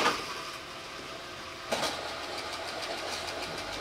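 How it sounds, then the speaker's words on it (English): Two rotors of roughly equal mass, one on a maglev bearing and one on a thrust bearing, spin with a steady whirring hum and a brief louder surge partway through, with no talk. "We have two rotors, and I'm going to spin them for you."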